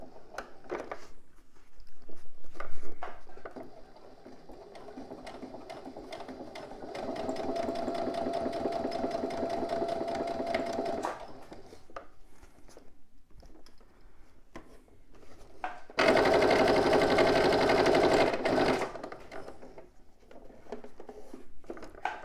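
A sewing machine topstitches a lining at a zip corner in several bursts: a short run, a longer steady whir, then a loud close final run, with quiet pauses and handling noises between.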